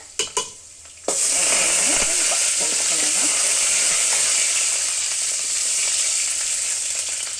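After a few sharp clinks, spices hit hot oil for tempering a drumstick-leaf curry and burst into a loud, steady sizzle that crackles close by and slowly settles.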